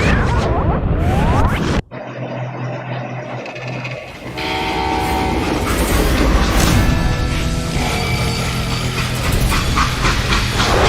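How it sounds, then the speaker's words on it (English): A freight train in the Western shooter Call of Juarez: Gunslinger, a sharp cut into a hum, then loud rolling rail clatter with layered tones like a horn or whistle running steadily to the end. "They hopped a freight train having heard there was a big payroll in the express safe."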